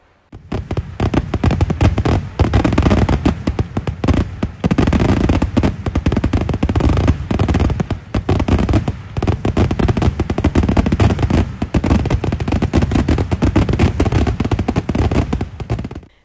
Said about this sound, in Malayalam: പന്തല്ലൂർ പൂരനഗരിയിൽ വീണ്ടും വെടിക്കെട്ട് വിസ്മയം വിരിഞ്ഞു